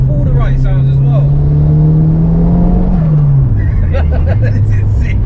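Engine-swapped 380hp Mk6 Ford Escort accelerating hard, a loud engine note climbing steadily for a few seconds then dropping off, with voices chattering faintly underneath.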